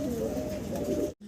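Pigeons kept for sale give a close, soft, throaty coo lasting about a second before it cuts off abruptly.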